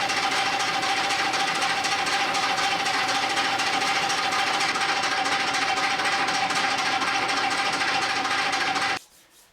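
A lathe faces off a part from an old earth-moving scraper, giving a loud, steady metallic cutting whir with a constant tone for about nine seconds before it cuts off abruptly.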